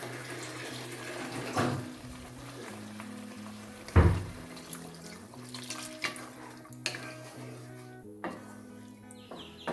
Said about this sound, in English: still I'll add one more cup of water.